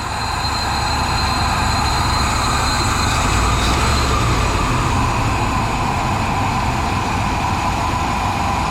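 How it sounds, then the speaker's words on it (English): A 1995 Ford F-150 engine idles smoothly after lifter replacement, with a steady, even hum held at constant loudness throughout, alongside a running shop fan and an exhaust hose attached, with no ticking or knocking. "this thing purrs like a kitten"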